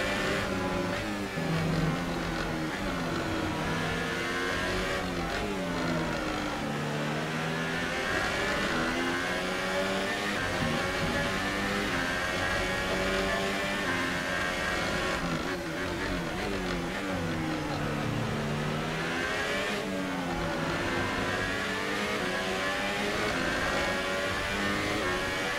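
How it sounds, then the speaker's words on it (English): Formula One race car engine in the F1 2018 video game, a continuous high-pitched whine that rises and falls with revs and gear shifts, loud and unbroken across the whole stretch. "There's definitely a noise from the engine, isn't there?"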